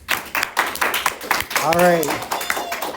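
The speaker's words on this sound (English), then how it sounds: "yes, you could clap" Children in a classroom clap in a quick, regular rhythm while practising times tables, the claps sitting under a teacher's voice that keeps talking throughout.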